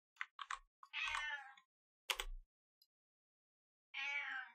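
A cat named Claudia meows several times close by, short chirping calls followed by longer drawn-out meows separated by silence, with a soft clunk in between.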